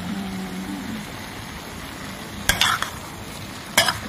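Squirrel meat frying in soy sauce in a pan, stirred with a utensil: a steady soft sizzle runs throughout, with two sharp scraping clatters of the stirring, close and fairly loud.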